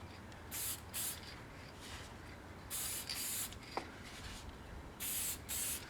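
Short hissing bursts from an aerosol can of varnish, sprayed in pairs onto a wood slice with quiet pauses between, close and fairly soft.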